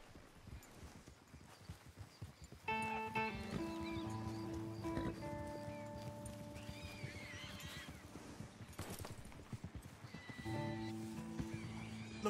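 Horse hooves clip-clop along a dirt track in Red Dead Redemption as a horse-drawn wagon draws closer, with whinnies and neighs rising over a steady outdoor ambience and sustained musical tones; no talking.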